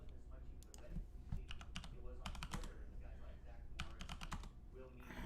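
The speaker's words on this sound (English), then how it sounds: "Man, I hate this keyboard." A computer keyboard clatters in quick bursts of keystrokes, close and clear, with a steady low background hum underneath.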